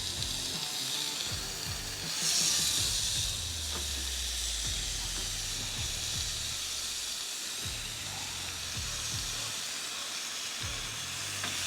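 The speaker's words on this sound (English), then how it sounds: "That grill is sizzling, searing hot, baby. Trust me, you're gonna hear it." Food sizzles and hisses steadily on a hot Ninja Woodfire grill, with a brief burst of louder steam and faint crackling throughout.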